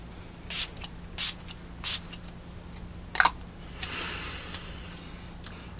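Milani Make It Last watermelon kiwi setting spray pumped in three short, close hisses, then a longer softer mist and a few faint ticks against a quiet room hum.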